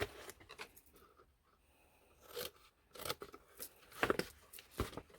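Scissors snip thin slivers off paper tabs on a juice-box vending machine craft, giving several crisp close cuts in uneven bursts over a quiet room with soft handling rustles between them.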